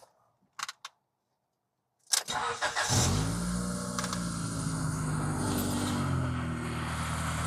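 A 1996 Honda Accord, worked on for its air conditioning, cranks and catches after a few faint clicks, then settles into a loud, steady idle close by.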